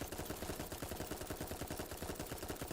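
Rapid automatic submachine-gun fire from the ballistic SMG in the video game Dolls Nest: a steady, evenly spaced stream of sharp shots, loud and close, running the whole time with no talking.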